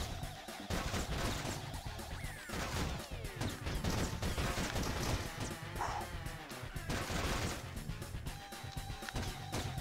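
Rapid light-gun shots at criminals in the PS1 game Point Blank, a dense, continuous barrage of loud gunfire blasts with crashing hit effects and electronic jingles throughout, no talk.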